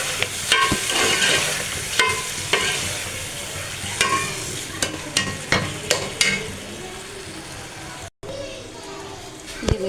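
Ingredients frying in a pan before chicken liver goes in, a steady sizzle with frequent spoon knocks and scrapes. Voices, including children, talk over it throughout, and a brief cut to silence falls near the end.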